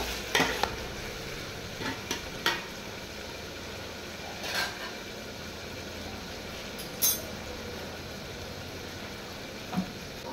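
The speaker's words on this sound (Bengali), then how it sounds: "মাংসটা ফ্রাই হয়ে গেছে, প্রায় আরেকটু করে নেব" Chicken meat fries in a pot on a small oven with a continuous sizzle and hiss, punctuated by occasional light scrapes and clinks from stirring.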